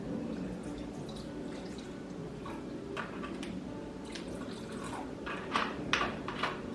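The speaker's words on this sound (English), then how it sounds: "Now we have some apple cider vinegar, 6 tablespoons of the apple cider vinegar." Apple cider vinegar is poured into a bowl, a soft, close series of dribbles and drips of liquid against a low background hum, ending in a few louder splashes; nobody speaks.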